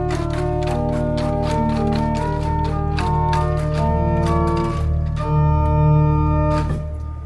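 Combined principal stops of the golden pipe organ in Basilica San Martino hold rich sustained chords over a steady bass, swelling slightly toward the end before releasing, with no talking.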